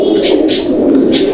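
Giribaj pigeons with throat markings coo close and loud, a steady low rolling purr with brief higher chirps breaking through a few times.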